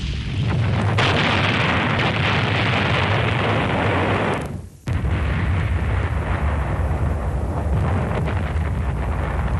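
Korean War artillery shelling and air strike explosions roar as a loud, continuous rumbling barrage, broken by a brief near-silent gap midway before the heavy blasting resumes, with no voices.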